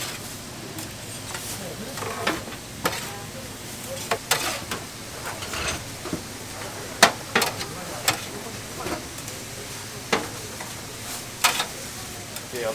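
Thick handmade tteokgalbi patties sizzle on a grill at a busy Korean street market stall, a soft steady frying hiss broken by frequent sharp ticks and clacks from cooking tools.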